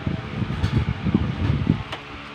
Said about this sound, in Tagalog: Kaya kami po naka-electric fan.